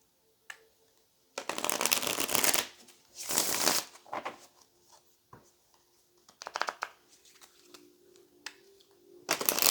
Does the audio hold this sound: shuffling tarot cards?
yes